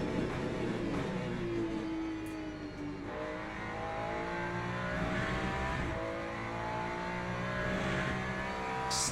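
A Ferrari 296 GT3 race car in the Le Mans Ultimate racing game holds a steady, loud engine note that rises and falls through gear changes, with a brief tire squeal, no talking.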